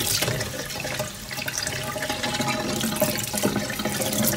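Cold tap water gushes steadily over cooked lasagna sheets in a sink, a close, continuous rushing stream with small splashes.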